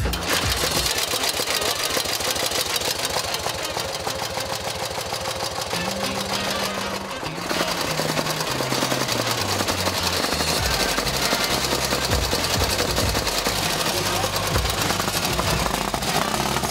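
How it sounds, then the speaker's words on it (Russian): A BSA G14 military motorcycle engine from the 1930s runs steadily with a dense, rough mechanical drone that shifts pitch in steps partway through, loud and continuous with no talk. "отказались от закупки военных мотоциклов у компании BMW и переключились на компанию BSA, на модель"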